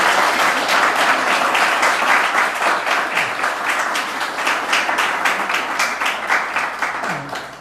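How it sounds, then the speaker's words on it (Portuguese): Church congregation applauding, a dense, sustained round of many hands clapping that stays loud and even, then thins slightly toward the end, with little talk over it. "Você pode dar uma salva de palmas para Jesus?"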